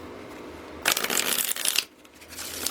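A deck of tarot cards shuffled by hand nearby, one crisp riffling burst of about a second that trails off, with no talking.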